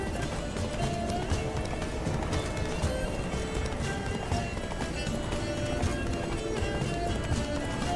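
Steady clip-clop of a horse galloping fast in The Witcher 3, continuous hoofbeats with game music and ambience underneath, loud throughout.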